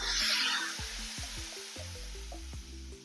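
Spice paste hitting hot oil in a pan along with cardamom, cinnamon and cumin for a vegetarian potato dish, giving a loud, steady hiss and sizzle that eases slightly over a few seconds, with soft low thumps of stirring beneath.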